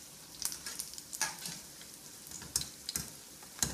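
Besan pakora fry in a pan of hot oil for Punjabi kadhi, giving a steady close sizzle with irregular crackling pops and scraping bursts and no voices.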